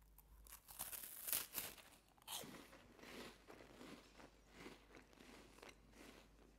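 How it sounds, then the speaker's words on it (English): A crunchy Bisk Farm cheese cream biscuit, salty and filled with sweet cheese cream, is bitten and chewed up close, with sharp cracking crunches near the start followed by a run of softer crackly chewing, no talk. "Such a crunchy and cheesy biscuit."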